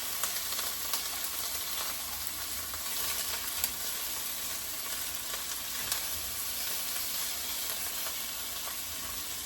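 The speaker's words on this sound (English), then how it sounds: "Our sausage and onions are cooking, and I want to let these go for a few minutes and get a nice little bit of sear on them" Italian sausage and onions sear in a pan with a continuous, even close-up sizzle and hiss, a few faint pops and crackles throughout and no talking.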